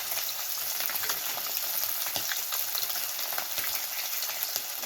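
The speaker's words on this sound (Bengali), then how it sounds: "সবার শেষে মাছটা রান্না করছি" Pieces of fish fry in a pan of hot oil, giving a dense, continuous sizzle with crackling pops. A few faint stirring clicks rise through it, and no voices are heard.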